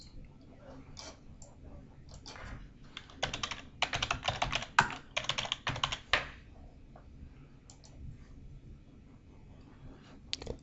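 Computer keyboard typing with mouse clicks at a desk, a quiet scattered patter building to a dense burst of rapid keystrokes in the middle, then tapering off to occasional clicks.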